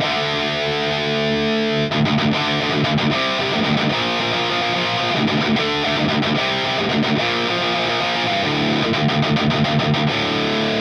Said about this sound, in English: you could hear the clipping, which brings the distortion, and it sounds very clear